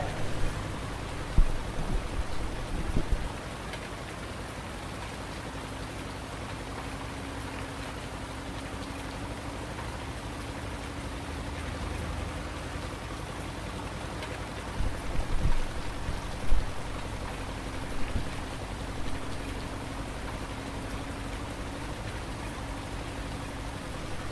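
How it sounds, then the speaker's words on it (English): Outdoor rain in Montana falls in an even, soft hiss, with a few scattered louder taps and knocks breaking through now and then. "Good, looks like the rain's gonna stop"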